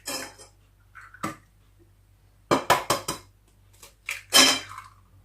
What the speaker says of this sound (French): on va casser nos 2 œufs